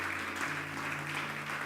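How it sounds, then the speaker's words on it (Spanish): Church congregation applause during a worship service, soft and distant clapping spread evenly under a low steady hum, continuous for the whole short stretch with no talk. "¿Por qué no le dan un fuerte aplauso al Señor por sus vidas?"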